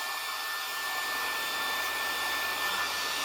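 Remington HC6550 cordless vacuum hair clippers run continuously during a haircut, giving a steady, close whirring hum with a thin high whine and no breaks.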